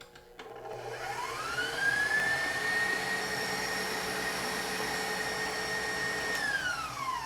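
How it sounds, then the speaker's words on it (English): Electric mixer with a whisk attachment beating macaron meringue toward stiff peaks on high speed: a loud, steady high-pitched motor whine that ramps up at the start, holds evenly, and winds down at the finish. "We're going to keep on beating this on high speed until we get to stiff peaks."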